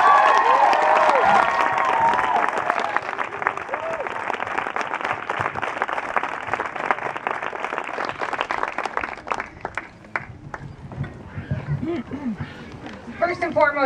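Large outdoor crowd at a charity run and fundraiser race applauding and cheering loudly, sustained clapping that gradually thins toward the end, with scattered voices underneath.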